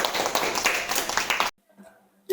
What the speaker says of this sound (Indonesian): kita berikan aplaus dulu dong